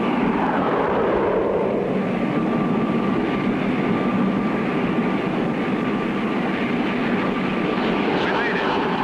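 A cartoon airplane flying in for a landing, its engine giving a loud, steady, continuous drone throughout with no pauses.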